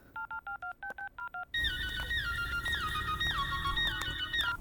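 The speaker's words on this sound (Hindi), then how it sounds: "मनु को फोन करके उसे मंगवा लेती हूँ और इंजीनियर को भी कॉल करती हूँ।" A mobile phone keypad beeps out a quick sequence of eight evenly spaced dial tones, then a denser stretch of overlapping touch-tone beeps follows over louder background noise.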